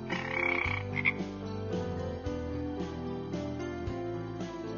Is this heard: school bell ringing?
no